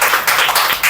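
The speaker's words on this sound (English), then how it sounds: "Claps for Dakshita." Applause breaks out for a young contestant at a school English spelling bee: a brief, dense burst of many hands clapping together, close and loud.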